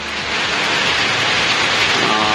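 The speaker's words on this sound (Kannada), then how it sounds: "ಗ್ರಾಮದಲ್ಲಿ ಮಳೆ ಜೋರಾಗಿದೆ" Heavy rain pours down on a village in Karnataka in a dense, steady roar, close and loud, with no pauses.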